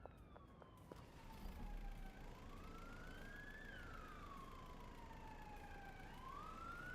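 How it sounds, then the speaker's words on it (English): Police siren in the video game Schedule I wails with rising and falling sweeps, fairly faint and distant, over a low continuous rumble of engine or ambient noise. "I wish the siren noises you were hearing were actually tied to legit actual police cruisers that were out and about"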